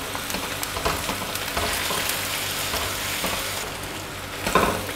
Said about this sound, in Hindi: 1-1 चम्मच लहसुन और अदरक का पेस्ट हम इसमें ऐड करेंगे और इसको थोड़ी देर के लिए फ्राई करेंगे